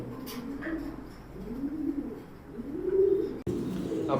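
Soft, low cooing of a black racing pigeon repeats in slow rising phrases, fairly close, with light background noise and a brief dropout near the end.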